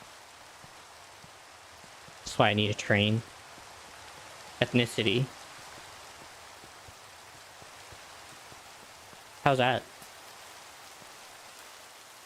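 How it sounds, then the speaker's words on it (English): Steady rain in a video game falls as a soft, even hiss throughout, with a person talking briefly over it in short bursts. "I'm trying to run away from the rain."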